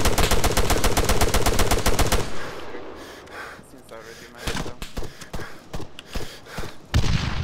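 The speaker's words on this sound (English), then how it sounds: "Under fire! Oh! Ah! Enemy fire!" Loud, rapid automatic gunfire in ArmA 3 starts as a fast steady burst, then breaks into scattered shots and impacts while players shout nearby.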